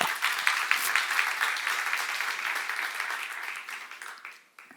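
A church congregation at a Korean sermon seminar breaks into applause, a burst of many hands clapping that starts strong and gradually thins and fades out.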